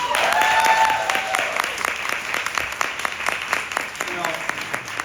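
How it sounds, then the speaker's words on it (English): An audience at a live storytelling stage show breaks into sustained applause, a dense wash of many hands clapping that stays steady and full for several seconds, with a voice faintly heard at the start. "So just give everybody a round of applause."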